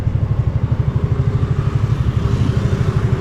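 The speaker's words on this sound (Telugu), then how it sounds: "సౌండ్ వస్తుంది నా బైక్ది" A TVS Ntorq scooter engine idling close by, a steady low putter with a fast regular pulse and no speech over it.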